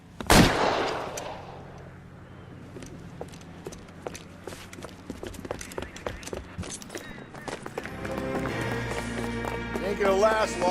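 Gunfire in L.A. Noire: a loud opening shot followed by a run of sharp shots at irregular intervals, mixed with running footsteps, with game dialogue around it.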